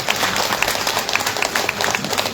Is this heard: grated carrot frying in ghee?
no